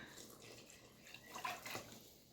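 Soft, steady trickle of water being poured, fairly quiet and continuous, with a slight swell near the middle.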